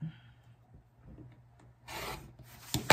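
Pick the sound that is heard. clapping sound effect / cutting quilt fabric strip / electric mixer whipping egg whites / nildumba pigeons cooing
cutting quilt fabric strip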